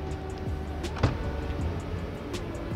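The power trunk lid of a Mercedes-AMG C-Class sedan opens after a foot kick under the rear bumper, giving a faint, steady motor whir with a soft click partway through.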